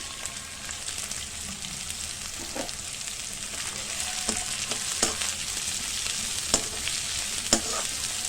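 Chopped onions sizzle in a hot pan with a steady crackling hiss, punctuated by sharp spatula scrapes and taps as they are stirred, close and fairly loud with no talking.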